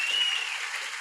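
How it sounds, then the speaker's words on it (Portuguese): An audience applauds a lawyer at a lecture on medicinal cannabis, a steady, fairly quiet wash of clapping throughout with no voices. "uma salva de palmas ao nosso advogado aqui hoje"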